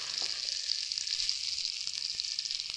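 Ginger paste with tomato and turmeric sizzles steadily in a hot pan, a dense, even frying hiss with faint stirring clicks, close and continuous without speech.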